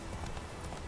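Quick clip-clop of horse hooves in The Witcher 3 on Xbox Series S, a steady galloping rhythm of close, dull thuds heard for under a second.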